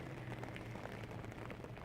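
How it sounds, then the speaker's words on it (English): Heavy rain pouring down, a dense, even outdoor hiss that holds steady throughout, faint and fairly distant, with no voices. "It's raining, it's pouring down rain."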